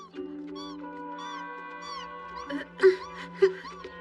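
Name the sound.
kitten meowing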